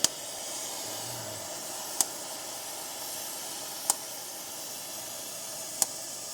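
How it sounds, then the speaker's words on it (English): A welding torch flame hisses in a steady, faint wash of noise while heating a coil spring mount on a 2004 Jeep Grand Cherokee, broken by four sharp, evenly spaced pops from the nozzle, with no talking. "Got a little fire over here now."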